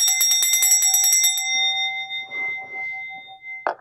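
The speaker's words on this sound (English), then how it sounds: "Got a bell for my collection." A small handheld bell rings with a rapid run of bright metallic strikes, then its clear tone rings on and fades. Quiet rustling and handling noises follow, and a short clink comes at the end.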